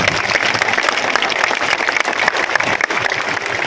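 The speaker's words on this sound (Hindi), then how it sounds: "लेकिन ताली बजा दीजिए।" A crowd at a political rally in Patna claps throughout, a dense continuous patter of many hands, loud and close.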